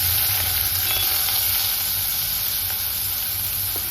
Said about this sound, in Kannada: ಈರುಳ್ಳಿ ಚೆನ್ನಾಗಿ ಫ್ರೈ ಆಗಲಿ.